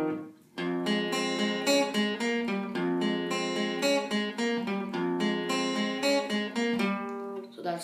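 Guitar picking a song intro, single notes ringing into one another in a steady, flowing melody, played alone and close with no talking.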